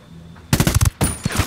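M4A1 rifle fire in the video game Ghost Recon Wildlands: a loud, close burst of rapid automatic shots, a short pause, then a second burst, alone with no talk.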